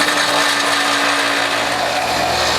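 WHF juicer pressing greens after turmeric, ginger and garlic, a loud steady mechanical grinding whir with a constant motor hum throughout, close and alone.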